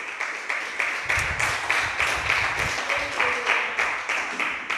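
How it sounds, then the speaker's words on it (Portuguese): Steady applause from a church congregation, many hands clapping continuously in a dense, rhythmic patter throughout, fairly loud and close. "Pode se assentar, aplaudindo e adorando o nome do Senhor Jesus Cristo."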